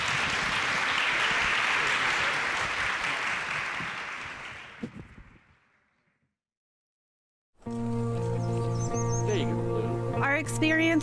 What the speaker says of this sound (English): let's get a round of applause for this great panel